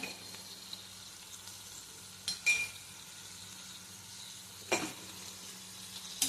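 Spinach vegetable with gram flour, millet flour and crushed peanut powder stirred in a pan, giving a soft steady sizzle with a few brief scraping strokes of the spoon, fairly quiet and without talk.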